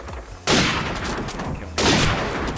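Two loud bursts of rapid gunfire crash out in Call of Duty 4: Modern Warfare on the Shipment map during a 1v1 quick-scope match, each a dense rattling volley of close shots with a brief gap between.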